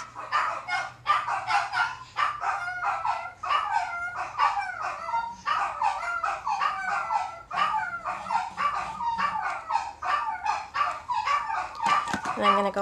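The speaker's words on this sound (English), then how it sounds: "Sorry if you can hear my dogs in the background." Several dogs bark and yip repeatedly in quick bursts, fairly close, with a faint low hum underneath and brief clatter near the end.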